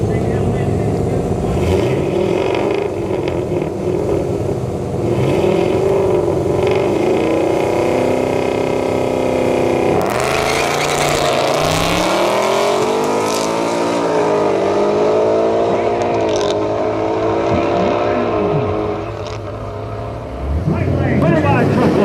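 Mustang drag cars at a no-prep race, engines idling and revving before roaring off the line and climbing through gears, loud and near, with people talking.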